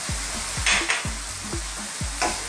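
Shrimp noodles with oyster sauce, red chili, salt and black pepper stir-fry in a pan, a steady loud sizzle with regular scraping stirs and clanks of the utensil against the pan.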